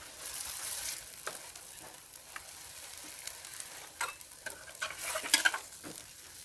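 Plantain tatale batter frying in a pan gives a steady crackling sizzle, with occasional sharper pops and stirring scrapes near the end; no voices.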